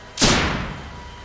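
A single sharp gunshot sound effect in a Fortnite scary story, a loud sudden crack with a long rumbling decay that fades over about a second.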